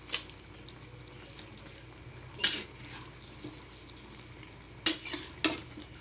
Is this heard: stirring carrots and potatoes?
yes